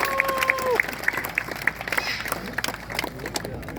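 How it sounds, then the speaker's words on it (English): Scattered audience applause at an outdoor parrot show, fairly quiet and thin, with a brief whistle-like tone at the start and irregular clapping continuing throughout. "let's give them a round of applause as they head on back home"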